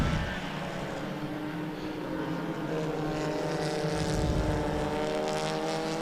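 Porsche and Alfa Romeo race cars lap a circuit at a racing festival, their engines droning at moderate distance in a sustained, shifting roar.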